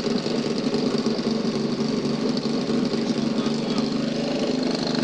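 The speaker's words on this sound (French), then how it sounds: "Et ça tient même le ralenti." A motorcycle engine from the hill-climb display at the 2020 Lyon motorcycle show idles steadily and loudly, with a constant rough, knocking drone and some crowd noise behind it.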